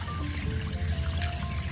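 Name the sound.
rinsing ginger under running water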